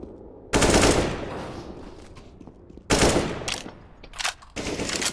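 Automatic AK rifle fire from the video game Counter-Strike on the Overpass map, heard as two loud sustained bursts separated by a pause, followed by shorter choppy bursts, with no speech.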